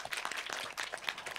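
Audience applause welcoming guests onto a panel at a Taipei popular music forum, dense steady clapping from a crowd filling the hall for the whole moment.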